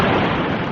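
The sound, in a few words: cannon fire in naval battle, sound effect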